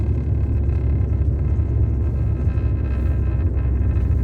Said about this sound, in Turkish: Burası akan bir trafik.